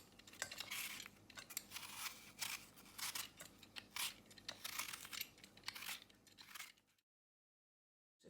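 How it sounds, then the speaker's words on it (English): Apples are peeled by hand for a fruit crumble, a steady series of close, scraping knife-on-skin strokes in an uneven rhythm for about seven seconds before falling silent. "I'm going to do that by peeling the apples."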